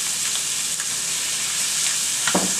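A pound of shrimp hits a hot pan over a medium flame, giving a loud, steady sizzle with a short clatter near the end.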